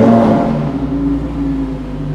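A supercar engine fires up from its push start button, a loud, close rumble that surges at first and then settles into a steady, throbbing idle, with no talk over it.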